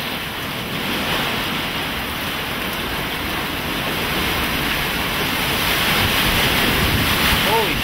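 A strong wind gust roars steadily during the tornado storm in Brooklyn and Queens, a loud, broad rush that builds slightly over several seconds and fills the whole clip with buffeting wind noise on the microphone.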